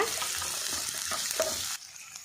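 Onion, garlic, ginger and chillies fry in a pan for a chicken curry, giving a steady close sizzle with light stirring that stops abruptly near the end.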